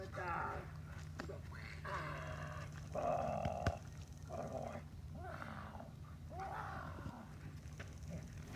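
Two dogs, Dash and Raya, growl during a training session in several low, rumbling bursts separated by short pauses, with a human voice audible around them.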